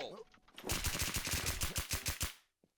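Rapid automatic gunfire in a shooting video game: one sustained burst of about twenty evenly spaced loud shots, close and sharp, ending abruptly, with a brief voice at the very start.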